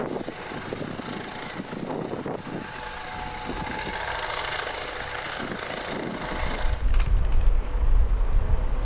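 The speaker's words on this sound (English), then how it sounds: "That guy's got a drone." A drone flies overhead outdoors with a steady whirring buzz that holds throughout, moderately near, then gusty wind rumble takes over toward the end.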